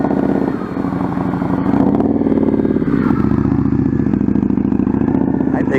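Motorcycle ridden in slow-speed rider training exercises, engine running steadily nearby with shifting revs and some clatter, loud throughout.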